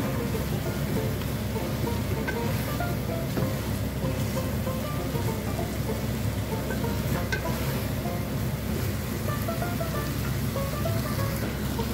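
A steady, dense bubbling and hissing fills the whole stretch, like water at a rolling boil in a pot, constant and close with no voices.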